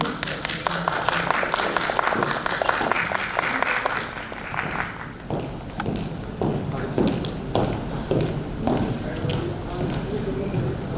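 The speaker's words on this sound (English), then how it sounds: "May we have a huge round of applause for both of them," Audience applause at a literature festival session, dense clapping filling the first half and thinning later, with a host speaking over and after it in a hall.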